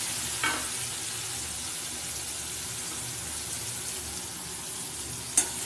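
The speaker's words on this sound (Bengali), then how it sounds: "মশলাটা দিয়ে আবারও ভালো করে কষিয়ে নিতে হবে বেশ কিছুক্ষণ ধরে" Koi fish curry with spices fries in a pan as a steady, even sizzle, with two brief clinks from stirring near the start and end. There is no talking.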